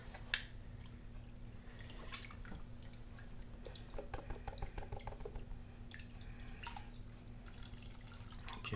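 Water sloshes and drips in a gold pan while pay dirt is being panned, a steady wet swishing with small splashes and trickles throughout, fairly quiet and close.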